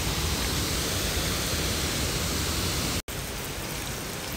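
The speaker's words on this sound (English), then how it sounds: "And there's the waterfall." A waterfall where a stream drops off a hillside, a dense, steady rushing roar heard up close and alone, with a single momentary cut near the end.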